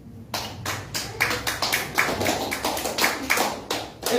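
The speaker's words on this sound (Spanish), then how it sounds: "Dale una ofrenda de palmas al Señor." A church congregation claps hands in a brisk, fairly even rhythm, a dense run of close, sharp claps lasting several seconds with no talk over it.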